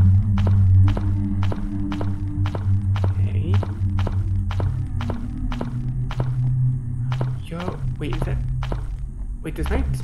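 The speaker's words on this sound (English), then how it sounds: "Although the walking sound could be a little bit different." A cartoon-style character walks in a scary indie video game, each step a soft thud landing at an even pace, about two per second, with some slight quieter knocks near the end. A person talks over the footsteps throughout.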